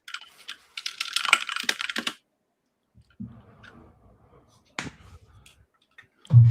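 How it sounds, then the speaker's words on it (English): Keyboard typing heard over an online panel call, starting with a vigorous burst of dense, clacky keystrokes, then thinning to scattered clicks with a low thump at the end. "You guys are typing vigorously."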